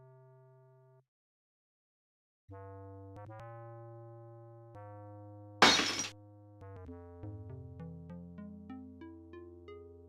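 A glass alcove cover shatters in Laura Bow II: The Dagger of Amon Ra, a single sharp crash of breaking glass set amid soft synthesized game music tones.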